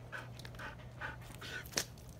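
A dog pants in quick, steady breaths close by, in several short rhythmic bursts over a low constant hum, with one sharper sound near the end.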